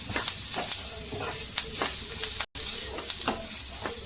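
Spices sizzle and crackle steadily in hot oil as tempering for fish curry, with occasional stirring clicks, close and fairly quiet, no voices.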